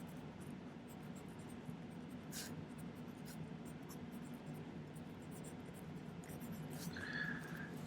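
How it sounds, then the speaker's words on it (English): Someone writes on a piece of silverwork during a spoon setting project, producing a soft, continuous scratchy scribble up close, with a couple of faint squeaks and no voices. "Let's write that on there just for giggles."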